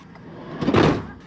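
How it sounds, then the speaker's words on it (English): The sliding side door of a van moves with one short rumbling slide that swells and fades over about a second, close by, with light rattles before and after. "Side door, I'm assuming."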